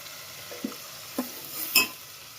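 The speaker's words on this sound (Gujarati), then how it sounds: "લસણિયા સેન્ડવિચ ઢોકળાનો વઘાર તૈયાર થઈ ગયો છે, ઉકળવા માંડી ગયો છે." A garlic tempering for lasaniya sandwich dhokla sizzles quietly in a pan, a soft steady hiss broken by a few faint pops and crackles.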